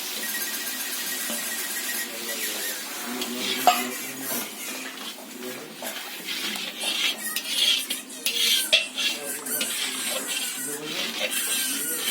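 A spatula stirs Kashmiri chili powder and spices in a pan, giving continuous close scraping, clinks and metallic knocks against the cookware over a faint sizzle, with occasional light speech in the background.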